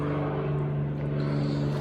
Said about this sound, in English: God damn those fucking airplanes. Fucking loud.